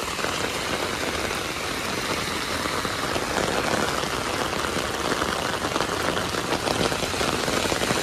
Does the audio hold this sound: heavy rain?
yes